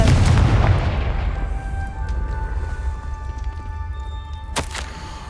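A Confringo fire spell from Hogwarts Legacy bursts with a heavy booming explosion at the start, then fades into a low rumbling tail with faint chiming magical tones and a sharp crackle near the end.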